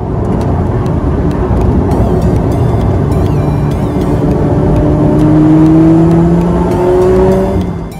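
A Lotus Elise sports car's engine revs hard and climbs steadily through the gears while driven at speed, then eases off at the end. The engine roar is loud, close and continuous, with a faint whir and tire noise.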